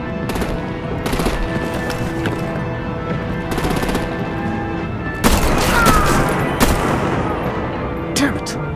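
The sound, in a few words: gunfire and artillery in video game Batman: The Enemy Within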